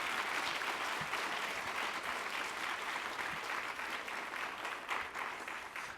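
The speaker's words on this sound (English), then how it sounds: "I think I'm going to just keep asking you all to applaud because we need that energy this morning" Audience applause at a morning book event at the Schomburg Center on 135th Street in Harlem, sustained even clapping from a sizable crowd that stays fairly steady for several seconds.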